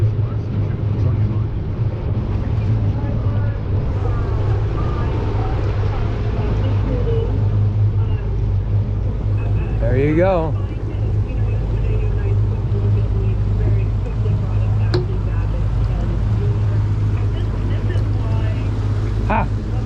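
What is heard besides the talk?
Stabicraft 2350 boat with F300 outboard on water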